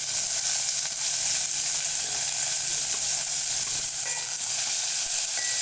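Oil fries in a pan while making mango sambar, a loud, dense, continuous sizzle that stays close and unbroken throughout, with no speech.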